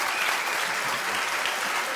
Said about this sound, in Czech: To není žádný zvláštní důvod potlesku.